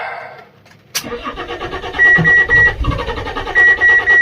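A neglected Fiat Stilo Abarth engine cranks and catches after a brief quiet, then runs roughly with revving surges, close by, alongside repeated high electronic beeps.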